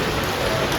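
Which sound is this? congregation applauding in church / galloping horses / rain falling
rain falling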